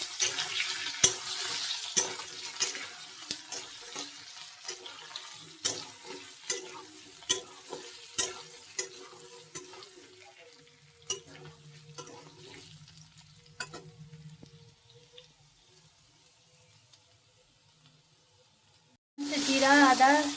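Potatoes fry in a pan in a home kitchen, a low sizzle broken by repeated sharp clicks and scrapes of a spatula against the pan, fading toward quiet near the end before a brief loud burst.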